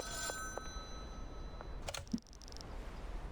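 A payphone rings in the video game Schedule 1, with a few short, bright electronic ring bursts in the second half, following faint clicks and a light background hum.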